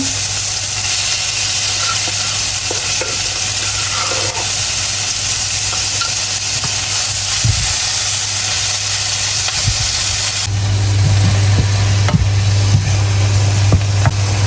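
Mackerel pounded with chili peppers stir-fries in a pan, giving a loud, continuous hissing sizzle with scraping stirs that swells and grows harsher for the last few seconds.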